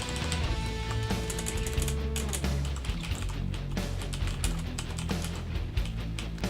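Steady typing on a Corsair K95 RGB Platinum mechanical gaming keyboard with not very clicky keys, a continuous patter of close keystrokes over a busy background.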